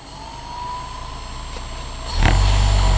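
Quadcopter motors driven through an Arduino test sequence: a faint electronic whine holds steady, then the motors spin up abruptly into a loud, close, sustained whirring roar.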